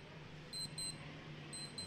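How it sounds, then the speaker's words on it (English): At a hobby stock car race, a faint electronic alarm chirps in short high beeps, two pairs separated by a pause, over a low steady hum. "That's your alarm there, bud."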